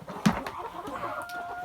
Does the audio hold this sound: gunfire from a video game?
no